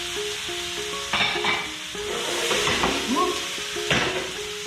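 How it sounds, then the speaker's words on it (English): Vegetables sauteing in a hot pan give a steady sizzle and crackle, with occasional stirring scrapes and clinks of a utensil breaking through, close and continuous with no talking. "There's the sizzle. And that's what you want to hear the entire time you're sauteing vegetables."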